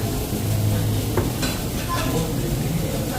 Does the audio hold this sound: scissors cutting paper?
no